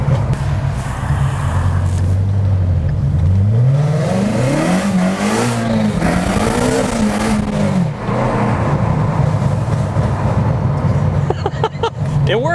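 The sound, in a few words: car engine revving with pops and bangs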